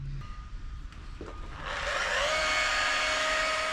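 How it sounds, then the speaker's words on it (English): A rotary polisher buffs chalky boat gelcoat with a cutting paste. After a quieter start with small clicks, the machine spins up and runs as a loud, steady whine close by. "you don't need to spend nearly as much time with the rotary polisher"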